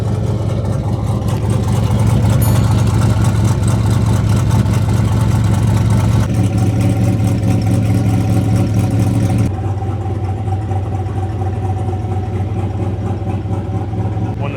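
LS-engined truck with straight pipes idling, a loud, deep and steady rumble close by throughout, the exhaust tone shifting slightly partway through.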